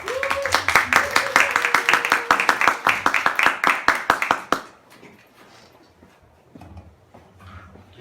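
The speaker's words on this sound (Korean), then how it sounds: "나오실 때 박수로 환영하겠습니다" Audience applause at a church special lecture greets the pastor: brisk, close clapping with a voice faintly under it for about four and a half seconds, then it stops abruptly, leaving a quiet room with faint rustles.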